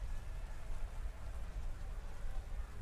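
Steady rain ambience from the Pokemon Sword/Shield battle weather effect, a continuous even wash of hiss over a low rumble, with no distinct drops standing out.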